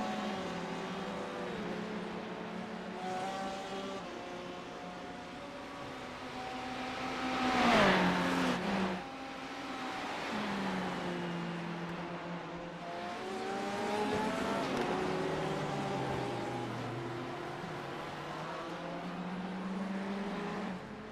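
Sim racing cars lap Virginia International Raceway in a league race, engines droning and shifting pitch through gear changes, with a loud car passing close by midway and other engines whining in the background.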